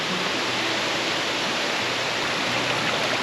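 The Covell Creek Falls waterfall in the Gifford Pinchot National Forest pours in a dense, unbroken roar of rushing water that is steady, close and fairly loud, with no voices.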